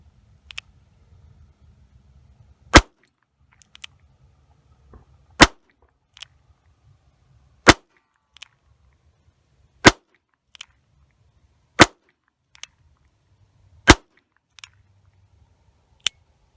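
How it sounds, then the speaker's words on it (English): A Colt 1876 open top spur trigger revolver fires .22 Short rounds, seven sharp cracks spaced roughly two seconds apart, each followed by a fainter mechanical click of the hammer being cocked, against a quiet outdoor background. "that was all 7 shots"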